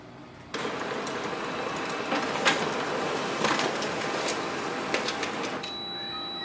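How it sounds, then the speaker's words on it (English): A Canon imageCLASS MF452dw laser printer starts up abruptly and runs steadily for several seconds, a close, continuous mechanical whir with periodic clicks and feed noises, then winds down near the end with a fading tonal hum. "We are ready to use this printer for printing and scanning."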